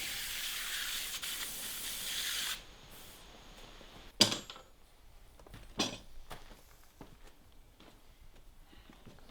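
A spray can hisses steadily, applying yellow paint to parts of a Volvo 4200, then stops after about two and a half seconds, followed by a few faint clunks and handling noises.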